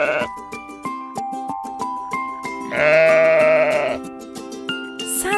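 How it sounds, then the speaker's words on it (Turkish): A sheep bleats once, a loud wavering call of about a second, set against a bouncy musical backing with regular beats. "Bu bir koyun."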